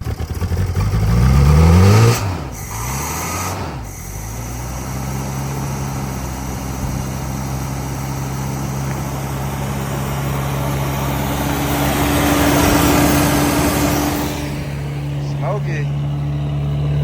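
A Toyota 22R four-cylinder engine in an old pickup runs steadily at close range, a low even drone with a brief rise near the start, and voices talk over it now and then.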